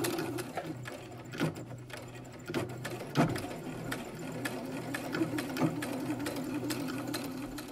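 A sewing machine runs a scant seam along the edge of a fabric mask, humming quietly and steadily with faint rhythmic clicks and a few soft knocks throughout.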